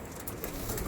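Mangalagiri and Andhra Lalsira pigeons in a loft, a soft murmur of cooing within a dense, hissy background for about a second, with no voices.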